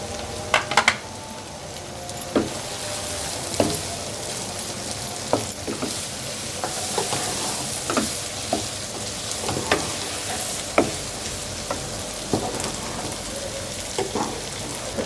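Capsicum sizzling in a pan with chicken while macaroni is being made, a steady broadband fry hiss broken by recurring scrapes and clinks of a spatula stirring against the pan, close and continuous with no talking.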